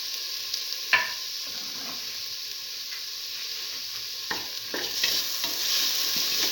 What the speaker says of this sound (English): Thoroughly saute mix.